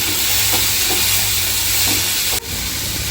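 Tomatoes sautéing in a pan for kara kuzhambu give a loud, dense, continuous sizzle and hiss, with faint stirring scrapes mixed in and a brief dip near the end; no one speaks.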